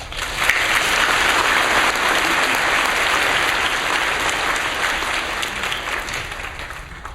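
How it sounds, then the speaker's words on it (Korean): A church congregation applauds to welcome a pastor to the pulpit, a full and sustained round of clapping that stays strong for several seconds before easing slightly. "우리 박수로 환영하겠습니다"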